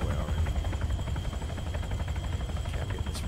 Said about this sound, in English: Secondary helicopter. I'm hearing a second one.